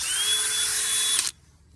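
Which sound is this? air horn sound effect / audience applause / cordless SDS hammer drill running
cordless SDS hammer drill running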